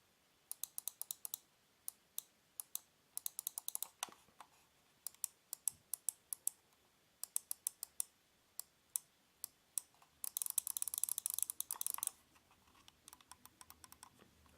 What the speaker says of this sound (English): you could hear the clicks of the mouse, very light engagement